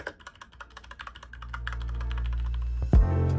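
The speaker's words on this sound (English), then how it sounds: "There's something special about typing on one of these." Rapid clicking keystrokes on a mechanical keyboard, close and crisp, gradually buried under a rising music bed that swells near the end.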